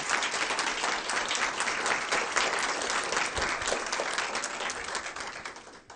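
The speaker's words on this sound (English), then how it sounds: "So let's give all of them a round of applause." An audience at a school board meeting claps in a round of applause, many hands at a steady, fairly loud level that fades away over the last second.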